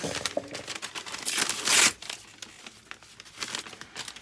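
Parchment paper crinkles and rustles as it is handled while sublimating a mask, with scattered crisp crackles and a louder burst of crumpling midway, close by and with no one talking.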